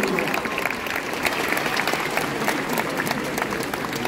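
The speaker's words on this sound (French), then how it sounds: "On applaudit bien fort Rocket Raccoon." An audience at a Japan Expo cosplay stage show in Paris claps loudly and continuously for about four seconds, a dense crowd applause with a few scattered cheers mixed in.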